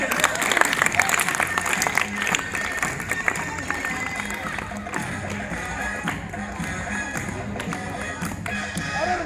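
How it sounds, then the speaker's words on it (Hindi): Schoolchildren in the audience at a magic show at a girls' senior secondary school in Jahazgarh applaud in a steady, crackling wash of many hands that carries on evenly, with some voices in the mix. "और से तालियां बजा दो"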